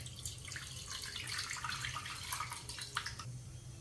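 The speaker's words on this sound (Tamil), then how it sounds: "புளி தண்ணி வடிகட்டி இப்போ ஊற்றுறேன்." Strained tamarind water pours steadily into a container, a soft splashing trickle close by, faint over a low background hum.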